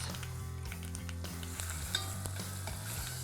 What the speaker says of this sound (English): Now let's get our garlic and ginger in. Let's saute this.